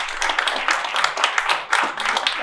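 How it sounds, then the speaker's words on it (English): An audience gives warm applause for a guest speaker, a continuous dense patter of many hands clapping in an indoor hall, steady and moderately loud with slight swells. "Many thanks and give a big applause."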